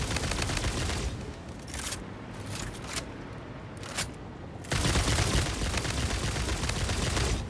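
Gunfire from the factory-building game Satisfactory, a dense rapid fusillade of shots running almost continuously throughout, loud and close, with a brief lull before a renewed burst.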